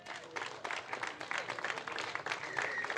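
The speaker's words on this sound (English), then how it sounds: "Please give a round of applause for second place for Vladimir Ivanikov." Applause for the second-place finisher at a FIA Karting European Championship round in Viterbo, Italy: a fairly quiet crowd clapping in a steady, uneven patter for about three seconds, with no voices over it.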